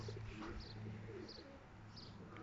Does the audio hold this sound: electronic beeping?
no